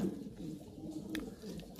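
Pigeons on a pigeon farm coo softly and continuously at close range, with low, rolling, repeated calls and no talking over them.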